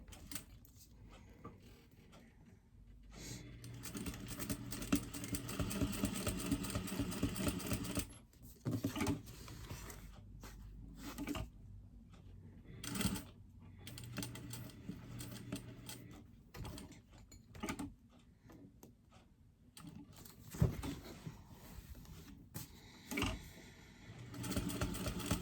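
Sewing machine stitching a zip pouch, running in bursts of rapid mechanical whirring and clatter separated by short pauses and faint handling noises.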